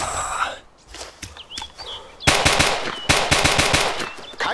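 Machine gun fire in the World War 2 shooter Iron Front: scattered shots at first, then rapid sustained automatic bursts that rattle loudly up close, with faint distant battlefield noise behind.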